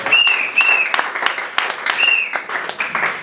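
A church congregation at a Sunday service breaks into brisk, loud applause, with dense clapping that swells and eases in waves, alongside a few sharp whistles.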